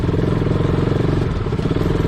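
A group of motorcycles, a KTM 390 Adventure, an Apache RTR and a Duke 250, ride together on the road to Yelbong, a loud, close, steady engine drone with rhythmic pulsing and no talk.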